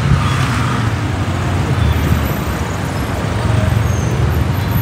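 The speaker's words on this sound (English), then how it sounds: "Seeing all this traffic here, it makes me super freaking excited for when I get to start driving in it." Steady street traffic in Naples: a continuous, fairly loud roar of passing cars and other vehicles, with no distinct breaks and no voices standing out.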